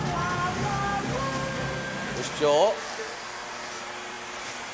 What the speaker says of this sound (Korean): 거실로 들어와서 다시 한번 청소기를 가동해봤습니다.